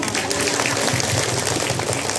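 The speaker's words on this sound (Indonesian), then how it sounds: "Tepuk tangan buat ibu-ibu" Dense, loud applause from a women's congregation at a Maulid Nabi religious gathering in Indonesia, continuous clapping filling the hall with a roomy, echoing character.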